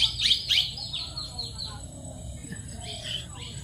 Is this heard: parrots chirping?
yes